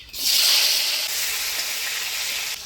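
Chopped tomatoes hit hot oil tempered with dried chillies, bay leaf and five-spice for a Bengali jackfruit curry, giving a loud, close, steady sizzle that bursts up at once and holds before cutting off.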